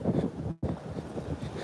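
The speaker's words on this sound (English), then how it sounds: "That's how you know it's windy." Gusty wind blows by the water after dark, buffeting the microphone with a loud, rumbling roar that drops out briefly and returns.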